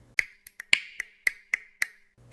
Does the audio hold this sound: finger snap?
yes